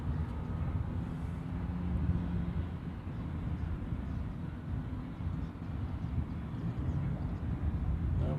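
A C-17 military transport aircraft moving on the ground at Honolulu airport, a steady low engine rumble that stays even throughout and comes from some distance, without clear talk.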